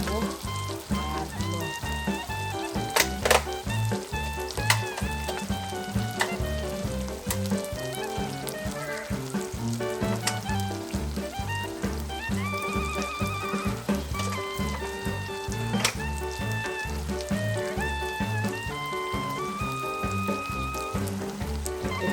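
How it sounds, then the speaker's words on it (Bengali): Ingredients sautéing in a pan as the base for a fish and eggplant curry, a loud continuous sizzle and crackle heard up close for a long stretch, with sharp pops now and then and music playing behind it. "আমি একটু ভুনা করে নিতেছি।"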